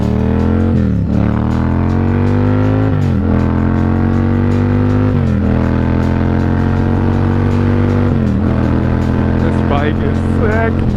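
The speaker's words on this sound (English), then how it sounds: "Let's get another super loud exhaust moment." A loud Yamaha MT-07 motorcycle exhaust roars close by while riding, revving up through the gears in repeated rising sweeps with brief dips between shifts.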